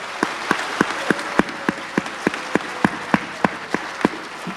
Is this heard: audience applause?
yes